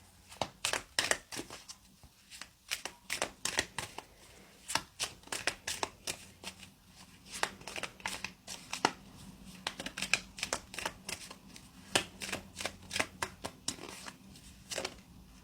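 A tarot deck being shuffled by hand, giving a long run of quick, crisp card riffles and slaps in irregular bursts, close and fairly quiet, with no voices.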